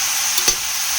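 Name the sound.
mushrooms being stirred and fried in a pan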